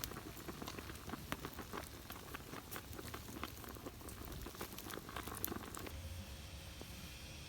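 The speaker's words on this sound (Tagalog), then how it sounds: "Bukal-bukal na." Faint, steady bubbling and crackling of water boiling sweet corn in a pot, a continuous soft texture with small pops scattered throughout.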